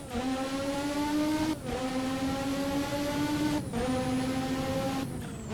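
A McLaren MP4/4 Formula One car in Assetto Corsa screams at high revs, its turbo engine note holding steady then dropping briefly at each upshift before climbing again, loud and continuous.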